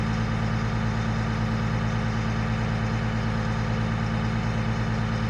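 An FMTV military truck engine holds a high idle, heard from inside the sound-proofed cab as a constant, loud, even low rumble with a steady throb and no talk.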